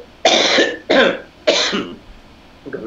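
Three loud, harsh coughs in quick succession, close to the microphone, followed by a faint trailing sound.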